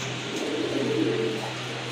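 Soft, low pigeon cooing in a steady murmur, close by, over a constant background hum with no talking, at a pigeon sale.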